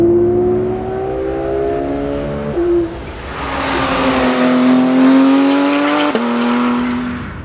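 Porsche GT3 RS engine revving hard while driving, a loud, close, continuous howl that climbs through gears with a brief dip near the middle before surging again.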